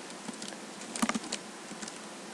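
Typing on a computer keyboard while entering an office-supplies account name into a general ledger, heard as a short burst of close, quiet key clicks with a quicker cluster in the middle.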